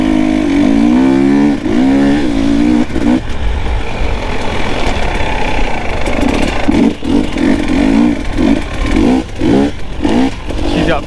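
A KTM 300 XC 300cc two-stroke dirt bike engine revs loudly up and down in repeated bursts, close by, with a raspy burbling idle between.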